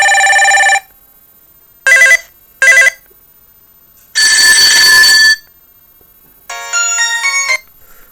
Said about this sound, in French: On a 11 sonneries disponibles qui sont toutes très fortes.